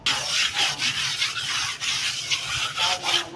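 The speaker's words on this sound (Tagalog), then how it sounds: "Kailangan lagi magliliha dito bago pagulong, pasapasahan ng liha." Steady, rhythmic rubbing and scraping of sandpaper on a surface before rolling on primer, stroke after stroke at a quick, even pace, close up and fairly loud.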